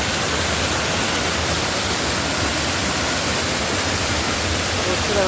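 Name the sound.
waterfall at the Rock Garden, Darjeeling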